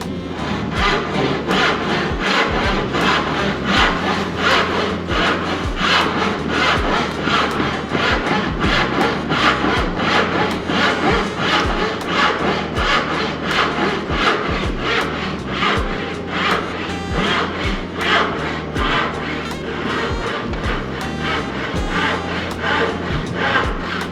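A hand saw cuts through wood for a miter edge dovetail, giving a steady, close run of rhythmic rasping strokes that continues unbroken throughout with no talking.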